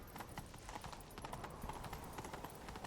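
Horse hooves clip-clopping at a steady gallop in The Witcher 3, a continuous rhythmic pounding close up over game ambience.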